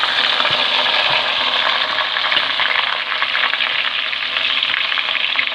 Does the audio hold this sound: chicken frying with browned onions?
yes